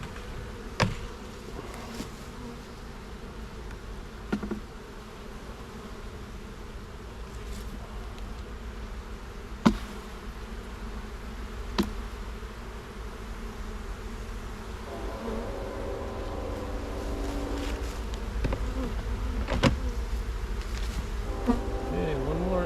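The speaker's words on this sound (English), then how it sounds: "We got some bees in the air now." Bees buzz steadily in the air around a beehive during hive work, a continuous droning hum with occasional louder passes close by and faint handling noises, no talk.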